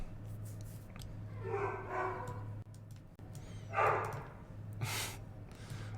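A dog's loud bark sounds in a couple of sharp bursts, alone against a steady low electrical hum, with no talking.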